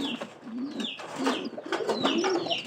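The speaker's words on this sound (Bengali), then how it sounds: "এই ঘরের ওই যে পায়রাটা এইগুলো কবুতর ভালো রানিং কবুতর" Pigeons in a loft give soft, throaty coos in a close, steady run of repeated calls, with faint chirps mixed in.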